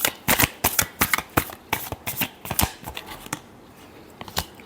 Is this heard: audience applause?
no